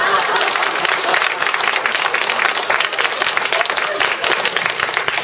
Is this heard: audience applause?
yes